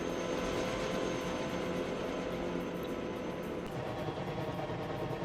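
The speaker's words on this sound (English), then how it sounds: "Here's the fun part where the helicopters see the boats and eat them." Helicopters in a multiplayer video game PvP match drone steadily with a dense, continuous rotor and engine roar that stays loud and unbroken throughout.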